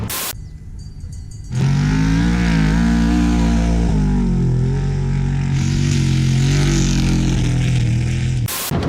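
Dirt bikes and trophy trucks in San Felipe, with a loud, close engine roar kicking in after a quieter start and holding steady with revving swells until it cuts off near the end.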